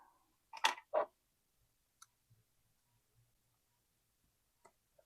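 Scissors snip through sticker paper: two quick, close cuts in a row, followed by quiet with a few faint ticks and light handling noises.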